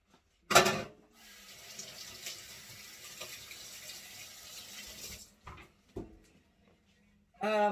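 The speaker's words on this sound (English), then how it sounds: "So let me rinse my fingers off." A kitchen tap runs steadily for about four seconds while fingers are rinsed under it after handling tomatoes for homemade salsa. The water starts with a sharp splash and ends with a few soft knocks and clunks.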